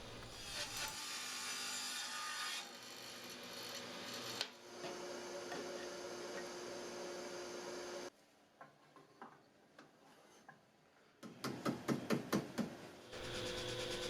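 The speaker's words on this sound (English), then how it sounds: "After the blade angle on my table saw is set, the board is cut into 2 strips." A table saw cuts a reclaimed oak board into strips, with a loud sustained whine and cutting noise that stops and restarts, then gives way to quieter clicks and a run of rhythmic knocks.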